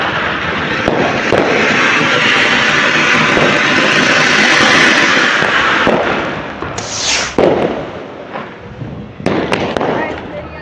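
Diwali fireworks in Punjab crackle and burst in a dense, loud barrage that thins after several seconds into separate pops and a rising whistling rocket, with a few sharp bangs near the end.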